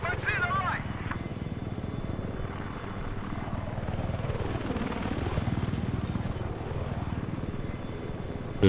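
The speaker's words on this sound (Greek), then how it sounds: "το ελικόπτερο." Video game helicopter from a Hammerhead-vehicle Conquest match, a steady rotor and engine drone running loud throughout the scene, mixed with game noise and a voice talking over it.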